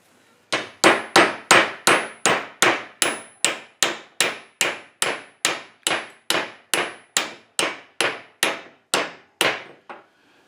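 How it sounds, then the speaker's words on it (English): Steady series of about twenty sharp metallic hammer blows, evenly paced and fairly loud, as a new U-joint and its caps are driven together into a vehicle driveshaft yoke; no talking. "we can press the new U-joint and caps together"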